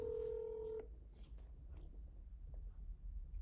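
A single telephone dialing tone beeps briefly while a sales call is being placed, then gives way to quiet line hiss. The beep is faint and clear, with no voices.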